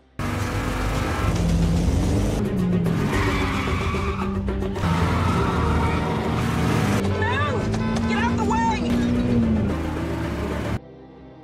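A car chase in a film, with engines roaring and revving, tires squealing, and a horse-like whinny near the middle. The chase is loud and continuous until it cuts off abruptly near the end.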